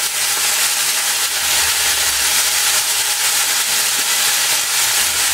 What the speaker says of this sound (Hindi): चूड़ा को भूनने के लिए मस्टर्ड ऑयल डालेंगे